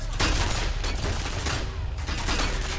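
Enemy gunfire in the video game F.E.A.R. rattles in dense, rapid bursts that run almost unbroken for the whole stretch, loud and close.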